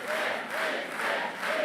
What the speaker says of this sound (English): Welcomed by thundering applause, Christine Fréchette took to the stage as Quebec's next premier.